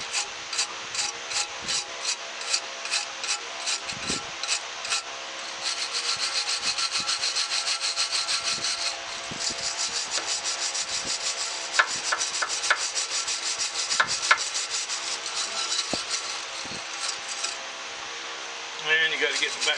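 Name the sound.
wire brush scrubbing caked grass off a bolt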